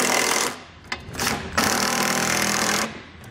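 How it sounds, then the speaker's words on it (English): A power tool drives bolts on a Curt trailer hitch receiver being fitted to a 2012 Volkswagen, running with a 1/2 inch socket in loud, sustained whirring bursts separated by brief pauses. "we'll use a 1/2 inch socket to tighten our bolts down on our driver's side"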